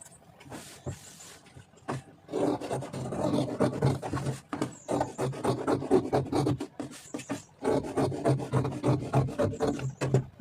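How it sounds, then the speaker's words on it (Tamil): Scissors snip and rasp through chudidar fabric on a cutting surface, a run of close, uneven cutting strokes with brief pauses and rustles, no voices. "இப்போ நான் மெயின் பீஸில் போட்டு கட் பண்ணி காமிக்கிறேன்."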